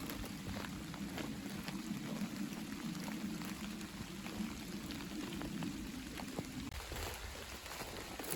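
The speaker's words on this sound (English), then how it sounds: "It is absolutely pouring rain now" Heavy rain pours steadily outdoors, a dense hiss with scattered drips and patters that eases slightly near the end.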